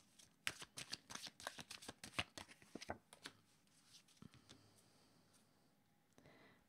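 Tarot cards being shuffled close up, a quick run of crisp riffling flicks and taps that grows sparser and softer toward the end, quiet overall with no talking.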